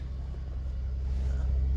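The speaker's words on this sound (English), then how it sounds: "the engine sounds healthy." A Buick LaCrosse, bought wrecked at auction with its check-engine light on, idles as a faint, steady low hum. The engine sounds even and unchanging for the short stretch.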